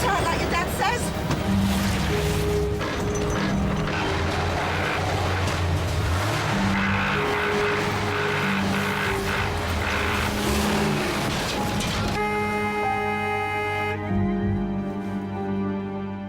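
A car careers along with failed brakes, its engine straining and tyres rushing over uneven ground in loud, lurching surges as people shout in alarm, then the motion cuts off abruptly near the end.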